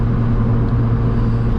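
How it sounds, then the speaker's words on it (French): Inside a 2005 Lotus Exige S2 with a Rover engine, a loud, steady engine drone and road rumble fill the cabin without change, with no voices. "c'est une Lotus Exige S2 de 2005, donc les phases 1 avec l'intérieur de moteur Rover."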